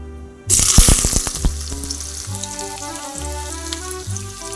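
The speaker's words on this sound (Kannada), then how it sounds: "ಆನಿಯನ್ ಹಾಕಿ ಚೆನ್ನಾಗಿ ಫ್ರೈ ಮಾಡಬೇಕು" Chopped onions hit hot oil with mustard seeds for buttermilk sambar, bursting into a loud sizzle with crackling pops that then settles into a steady fry, close by and without speech.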